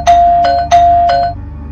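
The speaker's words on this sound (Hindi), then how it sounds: "4 बार डोरबेल की आवाज सुनकर" A doorbell rings twice in quick succession, each press a loud, clear ding-dong chime heard up close with nothing else around it, set in an animated horror story.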